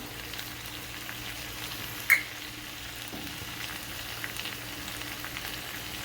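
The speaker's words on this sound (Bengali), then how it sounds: "তো চিকেনটা কষানো শেষ, একদম ভাজা ভাজা হয়ে গেছে।" Chicken frying in oil for a Bengali methi chicken curry gives a low, steady sizzle, with one sharp clink near the start and faint stirring scrapes.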